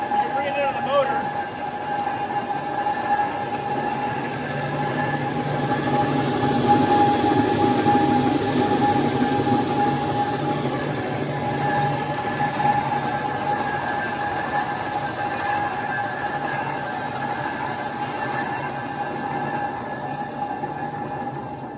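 A worm-drive mine locomotive with a single motor driving two axles runs while jacked up off the ground, giving a steady mechanical whine and hum with constant tonal lines. It holds even loudness throughout, and a voice talks over it.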